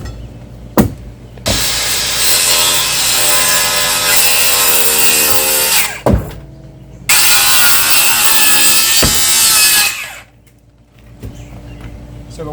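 A saw cutting through wooden pool deck joists in long, loud, steady strokes, broken by a few sharp knocks and brief pauses before the blade runs again, then trailing off near the end.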